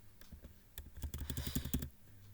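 Someone types a browser address on a computer keyboard: a quick, soft run of close key clicks, thickest in the middle, with a faint background hum.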